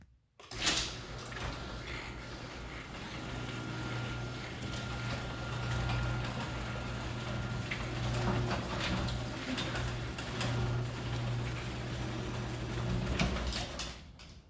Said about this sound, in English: Let's see if it makes any difference on the noise of the door.